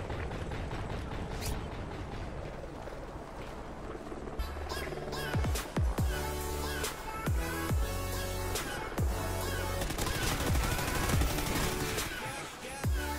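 Rapid bursts of gunfire from the Call of Duty video game, dense and close, repeating over a steady layer of in-game background sound, with occasional faint talk.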